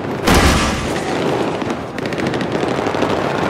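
Loud bursts of automatic gunfire from a Battlefield 3 firefight, dense rapid shots rolling on continuously for several seconds with no voices.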